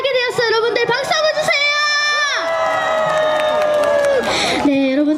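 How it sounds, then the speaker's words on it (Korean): A festival crowd at an outdoor tomato festival concert cheers and applauds, with bright shouts and whistles. A singer's voice sits over the noise, and the crowd's roar swells loudly near the end. "여러분들 박수 한번"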